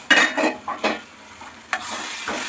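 Tomato sambar base frying in a pan, heard as a few bursts of crackling sizzle and stirring scrapes, close and fairly loud, with brief gaps between strokes and no voices.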